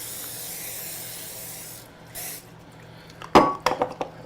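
A short burst of olive oil aerosol spray hisses briefly onto a pan, followed by a few light clinks and taps of metal cookware in a quiet room.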